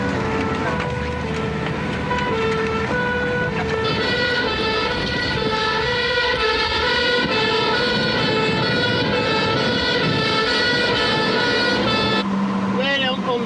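A UK fire engine siren in Merseyside, 1997, wails loudly and continuously over engine noise while responding under blue lights, with a horn blast near the end, close by.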